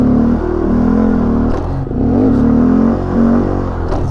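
A car engine revs in a stunt lot, a loud close droning roar that surges and dips with brief pops and clatter, no voices.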